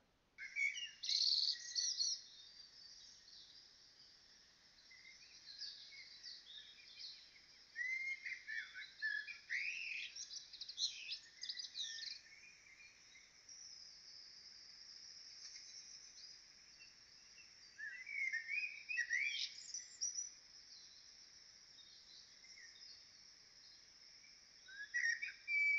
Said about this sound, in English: It was a blackbird singing